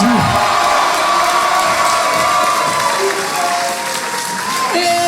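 A large crowd at a French gaming event applauds, cheers and whoops loudly and continuously, with shouts mixed in and a steady electronic tone running underneath.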